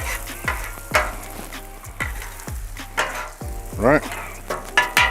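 Onions frying on a flat-top griddle, with a metal spatula scraping and pushing them across the hot surface in repeated strokes over a steady close sizzle; a voice speaks briefly.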